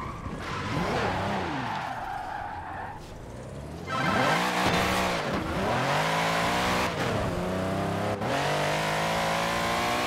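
A Mercedes SL65 AMG in Forza Horizon 4 revving hard through rising gear pulls, with tire squeal and skidding, loud and close, no talking.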